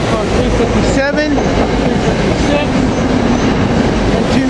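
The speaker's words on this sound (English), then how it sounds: "Here we got the Glenside train 450. Taking off" A SEPTA Glenside commuter train of three rail cars pulls away from the station, close and loud, with a rolling rumble, rhythmic wheel clatter and a brief squeal of wheels on the rails.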